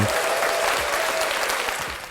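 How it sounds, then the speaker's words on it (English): A crowd claps steadily in dense, sustained applause that holds loud for most of the stretch, then begins to taper slightly at the end. "I'm going to clap it up for that, too."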